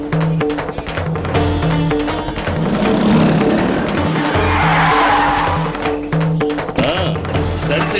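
A car braking to a stop: loud, close engine and road noise with a drawn-out tyre squeal and skid rising in the middle, while music plays underneath.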